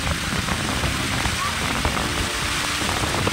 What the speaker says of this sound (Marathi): पाऊस खूप आहे, खूप पाऊस आलेला आहे.